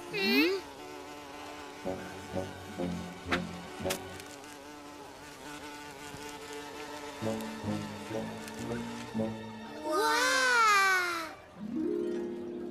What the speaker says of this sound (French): Regardez cette guêpe qui tourne autour de mon sandwich